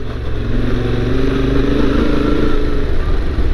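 A large motorcycle rides over rough off-road terrain, its engine a steady, loud rumble throughout with a constant low drone and some clatter, and no talking.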